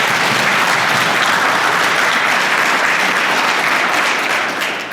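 A nature center audience at a volunteer anniversary celebration claps loudly and steadily, a thick wash of applause that holds evenly for the whole stretch and eases slightly at the end.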